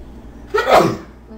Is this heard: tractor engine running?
no